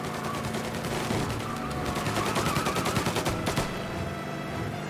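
Rapid gunfire rattles through a shootout in Mafia: Definitive Edition, with dense bursts of automatic shots loud and close, layered over game noise, and no talking.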